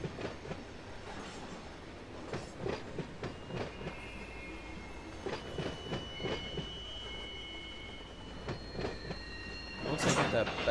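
A passing train in the Run8 train simulator game, rolling clickety-clack of wheels over joints with faint squealing tones, building louder near the end, with brief talk mixed in.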